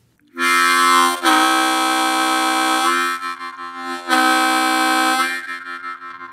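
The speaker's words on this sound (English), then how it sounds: "The next effect is playing 2 draw bends and at the same time playing 1 draw clean." Harmonica playing a bent 2 draw together with a clean 1 draw, giving loud, close, sustained reedy chords in two long blows, with the pitch sagging and recovering as the bend is applied.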